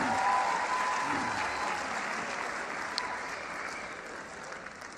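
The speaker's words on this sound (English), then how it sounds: "Give my daughter a round of applause." Audience applause at a motivational speaking event, a steady burst of clapping from a large crowd that gradually softens over a few seconds.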